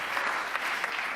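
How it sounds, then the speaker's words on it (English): A conference audience at the Munich Security Conference applauds, a dense, steady patter of many hands clapping close and continuous for the whole moment. "You can applaud."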